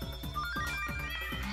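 A phone ringtone plays a repeating electronic melody with rhythmic pulses, steady and moderately close, with no talk over it.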